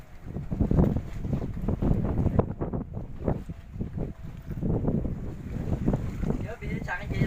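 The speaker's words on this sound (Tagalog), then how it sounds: "Malakas na yung hangin eh." Strong wind on a small fishing boat during trolling near Tanza, Amaya, buffeting the microphone in loud, irregular gusts alongside boat and water noise, with voices talking intermittently.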